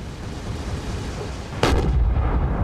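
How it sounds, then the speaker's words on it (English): Cannon firing during a line battle in the video game Mount and Blade, North & South mod: one loud booming blast at the end of a rumbling battlefield din, with a short rolling tail. "that's the cannon firing at the same time as you see a cannonball come bouncing across the fields towards them"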